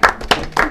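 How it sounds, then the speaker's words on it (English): Three sharp, separate hand claps in quick succession for a narrator at a Christmas family gathering, close and distinct with short gaps between them. "So we have a round of applause for the narrator."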